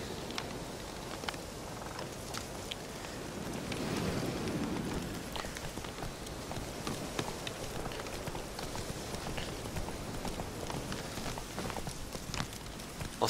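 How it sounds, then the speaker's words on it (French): Steady rain falls through a nighttime scene in The Witcher 3 video game, a continuous hiss with scattered drop patters, holding at a moderate level with a slight swell partway through and no speech over it. "Il pleut, fait nuit"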